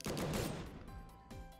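Rapid gunfire bursts in the action roguelike Skul: The Hero Slayer, a dense crackling volley up front followed by a few sharper scattered shots with ringing tonal game effects.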